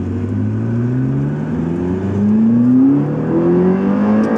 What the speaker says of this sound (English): So now can you hear the noise from the exhaust?